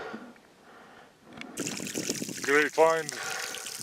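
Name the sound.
water trickling from a mountain stream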